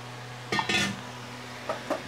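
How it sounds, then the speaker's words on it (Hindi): A spoon scrapes and clinks against a metal pressure cooker while mixing spices into water for egg biryani, in two short bursts, then two lighter taps follow, close by with no talking. "डालकर मैं इसे मिला दूँगी मसालों को पानी में।"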